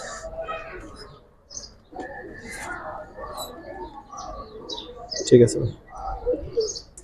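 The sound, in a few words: pigeons cooing at a pigeon market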